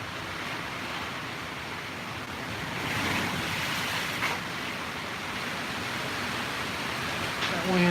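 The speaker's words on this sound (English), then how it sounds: "That wind's getting up again" Hurricane Dorian wind roaring outdoors as a steady, loud broadband rush that swells briefly and buffets the microphone near the end.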